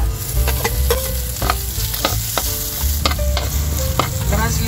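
Onion sautéing in hot oil with golden-browned garlic for Ilocano pakbet, a steady close sizzle broken by repeated sharp scrapes and knocks of a spatula stirring the pan, with no voices.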